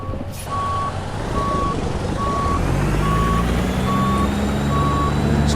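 Reversing alarm beeping steadily about once per second on a truck backing up a trailer in Euro Truck Simulator 2, with a constant diesel engine drone underneath and no talking.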